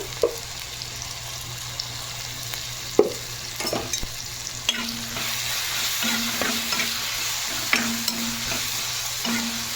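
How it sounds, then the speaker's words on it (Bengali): Eggplant frying in a generous amount of mustard oil with chopped onion, a steady close sizzle broken by several sharp clinks and scrapes of a spatula stirring the pan. "বেগুনটা বেশ লাল লাল করে আমি ভেজে নেব"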